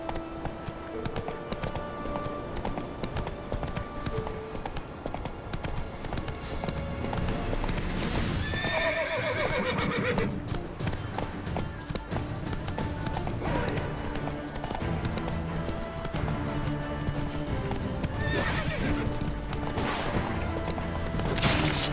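Roach the horse gallops through The Witcher 3, rhythmic clip-clop hoofbeats carrying steadily throughout with a brief neigh or whinny near the middle, set against ambient game sound.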